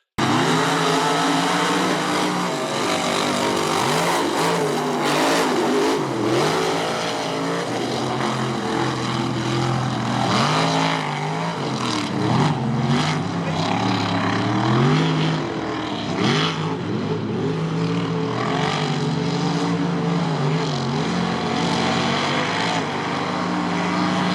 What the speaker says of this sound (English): Truck left pretty good, and then she started spitting and sputtering.